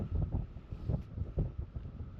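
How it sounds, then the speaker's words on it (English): Steady wind buffeting the microphone beside a lake, a low rumbling roar that surges and eases in gusts, with no voices. "it's windy as can be"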